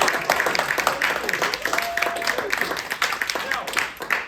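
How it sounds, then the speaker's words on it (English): Workshop attendees applauding themselves at a speech workshop, lively clapping from a small group, fairly loud and uneven, mixed with voices and chatter throughout. "Give yourself a huge round of applause."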